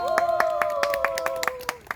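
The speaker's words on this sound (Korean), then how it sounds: "박수 주세요" An audience at an outdoor ecological children's play in a park claps in a steady, even rhythm, the claps clear and evenly spaced, while a voice carries on over them.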